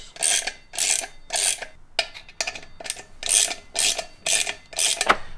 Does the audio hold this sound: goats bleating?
no